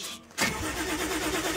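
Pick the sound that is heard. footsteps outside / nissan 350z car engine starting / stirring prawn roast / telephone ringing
nissan 350z car engine starting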